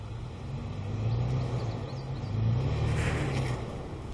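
A Toyota FJ off-road vehicle engine rumbles steadily as it backs up over rocks at an off-road park, the low drone swelling twice as the throttle is pressed, with no talk over it.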